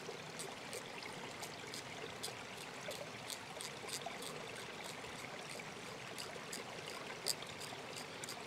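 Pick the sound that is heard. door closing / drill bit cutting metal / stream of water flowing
stream of water flowing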